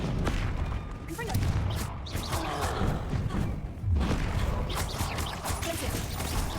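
Repeated Confringo fire spell blasts from the Hogwarts Legacy video game, dull thuds and crashes mixed with other spell effects and dense game noise, with a voice calling out spell names over the action.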